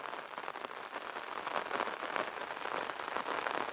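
Rain falls steadily all day, a constant close hiss of drops pattering on surfaces at an even, moderate loudness with no other sounds.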